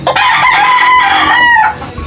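A rooster crows loud and close, one long drawn-out call with a rising then falling tone, lasting most of two seconds before trailing off.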